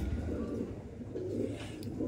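Rampuri pigeons kept in separate cages coo softly and continuously in a low rumbling murmur, close and steady, with no voices present.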